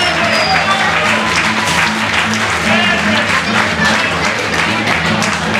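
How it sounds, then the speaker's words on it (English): A crowd at a motocross dealer cup awards banquet applauds loudly and continuously, a thick wash of clapping hands with some voices and cheers mixed in. "Let's give a round of applause for all our viewers and support Tampa MX and free racing."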